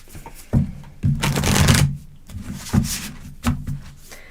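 A deck of tarot cards is shuffled close by, with several quick riffling bursts and one longer riffle in between, each followed by short pauses.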